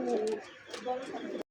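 Two tiger-coloured pigeons, offered for sale as a pair with chicks, give soft throaty coos at close range. Someone talks over the birds.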